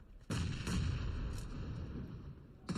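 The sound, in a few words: grenade explosion in the video game BGMI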